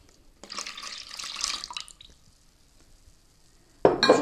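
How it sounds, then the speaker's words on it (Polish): Water poured into a bowl of pancake batter mixture with milk, a steady splashing stream for about a second and a half, then quiet, then a brief louder splash at the end. "wlewamy wodę."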